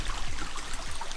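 A waterfall in Litchfield National Park pours into a stream, giving a steady broadband rushing wash that holds constant and close throughout.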